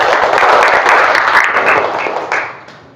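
Students in a classroom clap together for classmates who earned perfect scores, a dense, steady burst of applause lasting a few seconds before thinning out and fading at the end.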